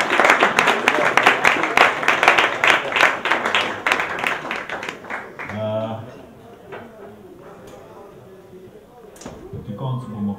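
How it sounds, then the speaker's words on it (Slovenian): Audience applause for a performer at a Slovenian folk music show, loud dense clapping for about five seconds that fades out, followed by a host speaking. "še en aplavz"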